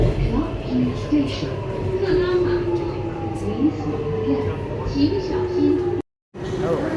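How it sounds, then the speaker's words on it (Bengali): A Singapore MRT train runs underground, a steady rumbling rail noise with rising and falling tonal whines. A voice talks over it, and the sound cuts out briefly near the end. "ট্রেন চলছে।"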